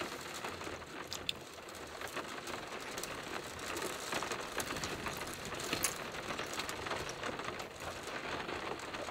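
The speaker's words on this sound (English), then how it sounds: "it started raining" Rain falling outside, a soft continuous patter with scattered drops and crinkly ticks, fairly faint and steady, no talking.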